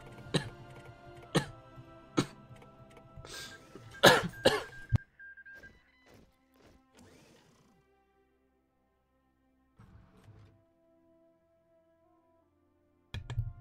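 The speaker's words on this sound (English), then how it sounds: "I did not cough as much just 10 minutes ago, but as soon as I start recording a video, then it's time" A man coughs in several harsh bursts during a modern-day Hearts of Iron IV session, loud and close, followed by quieter sparse sounds and a final cough near the end.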